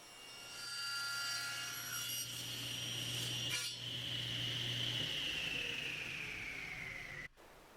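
A handsaw cuts a wood tenon held in an adjustable tenoning jig, a steady close rasping stroke running for about seven seconds before stopping abruptly.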